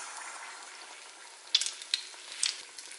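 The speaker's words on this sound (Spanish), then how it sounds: "Como ya está listo el aceite, vamos a introducir nuestras torrijas" Torrijas, slices of bread, drop into hot oil that answers with soft continuous bubbling and a few sharp crackling pops.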